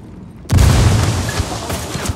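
Frag grenade blast in the Ghost Recon Wildlands video game: a sudden loud booming burst that hits after a quiet moment and rumbles on with a broad noisy tail.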